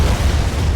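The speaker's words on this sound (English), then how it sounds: "I killed myself with my own rocket" A rocket explodes in Medal of Honor (2010) multiplayer, a loud, close, deep boom with a rumbling low end that fills the whole moment.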